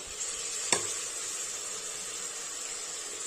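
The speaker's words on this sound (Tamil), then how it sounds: "தக்காளி எல்லாம் நல்லா வதங்கிடுச்சு" Tomatoes sautéing in a pan after onions for Tamil kuska, a soft continuous sizzle and hiss close by, with a single sharp clink of a utensil near the start.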